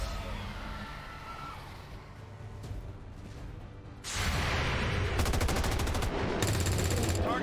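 Rapid automatic gunfire bursts from overwatch soldiers in the video game XCOM 2, loud and dense, kicking in midway over a low rumbling game ambience with clattering repeated shots.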